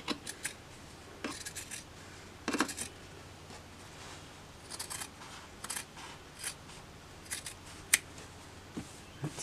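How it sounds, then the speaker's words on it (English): Scissors trimming quilt fabric along a line, producing a series of quiet, irregular snipping and rustling cuts spread over several seconds in a calm indoor setting. "you can use the scissors and trim down that line"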